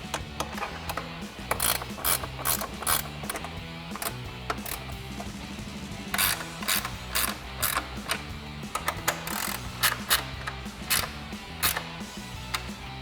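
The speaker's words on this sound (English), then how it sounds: "we'll bring back the 8mm ratchet wrench" An 8mm ratchet wrench tightens fog light bolts on a 2019-2024 RAM 2500, producing bursts of rapid close ratcheting clicks in repeated strokes with brief pauses between them, with no talking.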